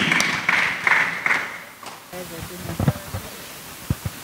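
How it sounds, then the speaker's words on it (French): A church congregation at a children's assembly claps and cheers in a few rhythmic bursts, then drops to scattered taps and murmuring voices. "Acclamation."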